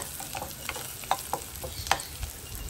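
Eggplant stir-frying in hot oil, a faint sizzle with soft spoon scrapes and knocks against the pan spread through the stretch.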